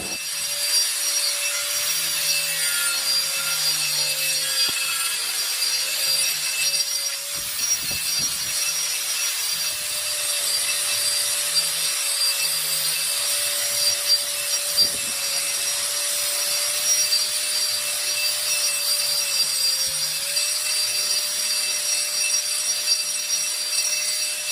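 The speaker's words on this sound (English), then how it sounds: "I'm going to take this out there and grind the crap out of these edges" Edges of a fossil horseshoe crab are ground with a power tool, giving a continuous loud abrasive whine with a steady tone and rough rubbing texture that runs unbroken throughout.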